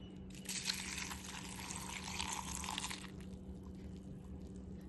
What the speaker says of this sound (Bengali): কর্নফ্লেক্সটা দিয়ে দিচ্ছি, এবার দুধটা ঢেলে দেবো